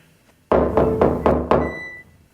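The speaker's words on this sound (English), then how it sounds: "Will you beat down the door?" Five heavy knocks on a wooden door land in a quick, even sequence, close and loud, each with a short resonant decay, followed by silence.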